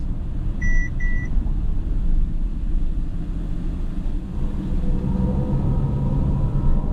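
Two short electronic beeps, then a steady low hum with a rising synthetic driving sound from a Mercedes-AMG EQS 53 electric car swelling under road rumble inside the car on the Autobahn.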